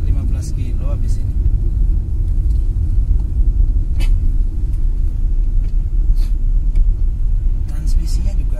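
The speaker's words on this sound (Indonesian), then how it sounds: "Kita akan bawa mobil ini sejauh 10 sampai 15 kilo habis ini." A 1993 Toyota Great Corolla sedan rolls along the road with a steady low engine and tyre rumble inside the cabin, while people talk over it throughout.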